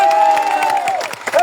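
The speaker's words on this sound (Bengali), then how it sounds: "তাদের জন্য একটা করতালি হবে।" A large crowd at a university protest cheers and claps, a dense roar of voices with a loud whistle held over the applause.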